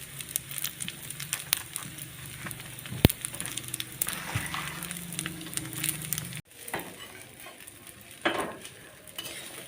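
Rice frying in a pan at night in a home kitchen, with a soft continuous sizzle broken by scattered clinks and scrapes of a utensil stirring, one sharp knock near the middle.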